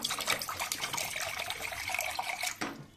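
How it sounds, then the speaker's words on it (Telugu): Water pours and splashes into a metal pressure cooker, a continuous rushing stream close up that cuts off near the end. "కుక్కర్లో కొన్ని నీళ్లు పోసుకుంటున్నాను"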